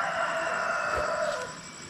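A rooster crows nearby in one drawn-out call, with chickens clucking in the background.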